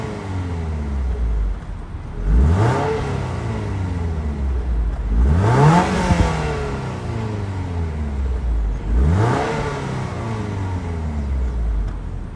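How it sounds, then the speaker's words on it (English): A 2023 Toyota GR86 Premium sports car with a functional dual exhaust revs three times. Each blip rises sharply and then falls back to a rumbling idle, loud and close, with no talking. "since we got a sports car and we got a dual exhaust, let's listen to see how she sounds."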